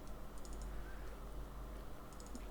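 Computer keyboard typing comes in two short quick clusters of keystrokes, one early and one near the end, faint against a steady low hum.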